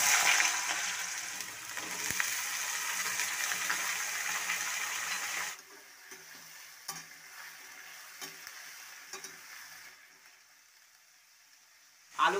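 Cut potatoes drop into hot oil already seasoned with black cumin and slit green chillies, producing a strong steady sizzle that suddenly dies down into quieter scattered crackles and stirring clicks.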